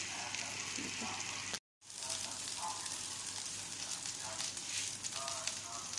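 Minced beef kebabs sizzle steadily and loudly in a hot pan as they are turned and pressed down with a spoon, with one short break in the sound.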